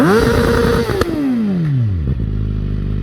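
A loud motorcycle engine revs up close, then its pitch winds steadily down to a low rumbling idle.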